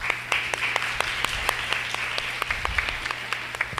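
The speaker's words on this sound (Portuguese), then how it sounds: "Então, palmas para a Ana," An audience at a university election debate applauds a retiring colleague, dense steady clapping with a few sharper individual claps standing out.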